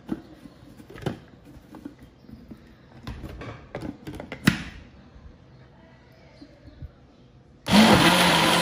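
A blender kicks on loudly and abruptly near the end, whirring as it mixes bananas, milk, ice and sugar into a lassi after several seconds of quiet kitchen clatter.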